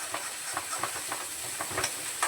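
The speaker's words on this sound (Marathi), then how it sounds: "आता हाच मसाला बघा तेलामध्ये टाकते मी." Black spice masala paste fries in hot oil in a home kitchen, giving a steady, bright sizzling hiss with soft crackles popping through it, close and continuous with no voices.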